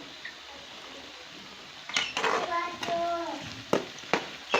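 Garlic and onions frying in a pan for a masala fish curry give a soft, steady sizzle, broken by a few scraping stirs and clinks of a utensil, with a voice faintly audible.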